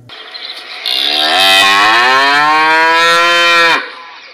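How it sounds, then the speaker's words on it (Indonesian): A cow gives one long, loud, close moo that swells and holds for about three seconds before cutting off, with no talking over it. "Wow, ini sapi teman-teman."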